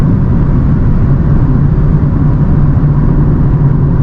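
A 2009 Nissan 370Z fitted with a race cold air intake accelerates in fourth gear, giving a loud, steady close engine drone with no voices.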